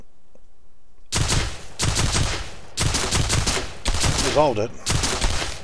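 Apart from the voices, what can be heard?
MP40 gunfire in a UE4 multiplayer video game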